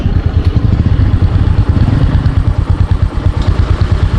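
A loud Honda motorcycle engine running steadily up close while riding, with a low, throbbing rumble and mechanical clatter throughout.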